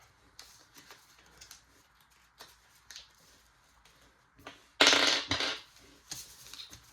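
Origami paper being folded, with soft crinkles and taps followed by a louder burst of crisp paper rustling, close and without speech.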